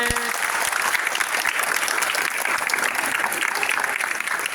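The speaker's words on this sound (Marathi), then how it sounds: "पुन्हा एकदा जोरदार टाळ्या होऊन दे" An audience applauds at a Class 8 school drama performance, dense sustained clapping throughout, loud and close with a faint crowd murmur.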